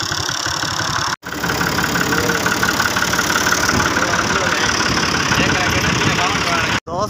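A tractor engine idles close by with a steady, chugging knock, running continuously apart from two brief dropouts, while voices talk over it.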